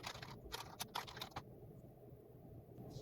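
Quick bursts of typing on a computer keyboard, a cluster of close keystrokes at a desk followed by near silence.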